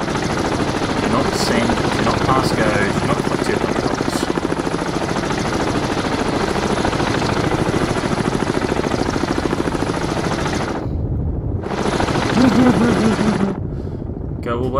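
Helicopter rotors in the submarine game Cold Waters throb in a loud, continuous pulsing drone. It cuts out briefly twice near the end, with faint game tones in the background.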